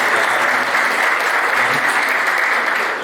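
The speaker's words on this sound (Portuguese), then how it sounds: "uma salva de palmas para o pessoal da Deloitte" An audience at a corporate training program's closing session applauds the Deloitte team, producing a loud, even wash of clapping that holds steady throughout and tapers slightly at the end.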